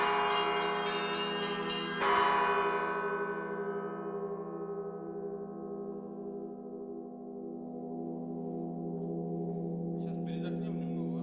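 Large bells of the Solovki monastery ring with a loud strike, then a long shimmering decay that fades gradually, leaving a rich lingering hum alone.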